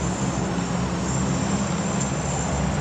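Airplane engine drone in PUBG Mobile, a steady, loud, unbroken hum with a faint high whine running through it.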